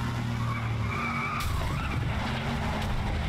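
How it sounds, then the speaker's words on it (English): Car skidding with squealing tires in the Flatout Ultimate Carnage racing game, a loud, steady rush of engine and tire noise under game effects, with a brief crash-like burst midway. "Whoa, car's flipping."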